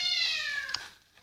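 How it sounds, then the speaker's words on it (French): A black cat in a blocky cube-world video game gives a single clear, drawn-out meow that fades away, alone and close. "c'est le chat noir."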